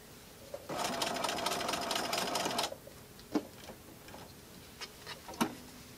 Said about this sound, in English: Then I'm going to lift my presser foot, pivot my bag, and continue sewing.